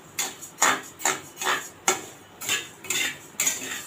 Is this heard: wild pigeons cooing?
no